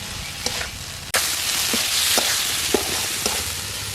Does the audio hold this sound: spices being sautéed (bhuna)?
yes